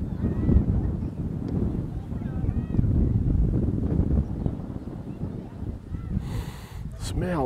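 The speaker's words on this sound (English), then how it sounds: "Breezy, very windy." Wind gusts buffeting the microphone with a low, rumbling roar that rises and falls throughout, with occasional faint voice-like sounds in the background, on the steppe coast of the Azov Sea in Russia.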